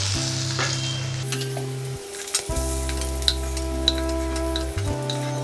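Steady crackling sizzle of pointed gourd frying in hot oil, with occasional sharp pops and a low hum running underneath.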